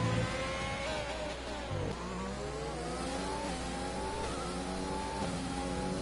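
Formula 1 race cars in a Bahrain race of an F1 video game league, engines revving loudly and continuously with rising and falling pitch as cars accelerate and shift.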